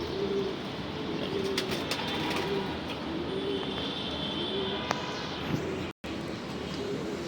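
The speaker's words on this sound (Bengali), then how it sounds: "এগুলো সব রেস করা কবুতর, রেসোইন কবুতর।" Racing pigeons of a Bogura line coo repeatedly in a loft, soft rhythmic coos recurring every second or so over a steady background hiss, with a few faint higher chirps.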